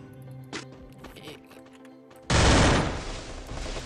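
Gunfire in the Free Fire battle-royale game, a loud sustained burst of broadband shots starting partway through and continuing to the end, after a brief sharp crack and quieter game sounds earlier.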